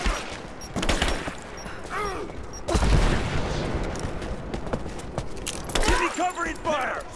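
Gunfire in the Rise of the Tomb Raider video game comes as repeated rapid bursts and single cracks, loud and close, while combat voices shout over the shooting.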